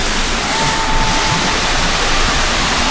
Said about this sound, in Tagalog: So, batis na agad yan.